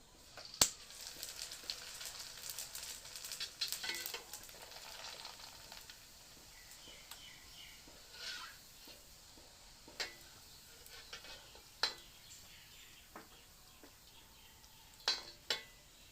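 Jeng pitha rice cakes frying in hot oil, a faint bubbling sizzle with scattered sharp clicks and taps of utensils, quiet and close.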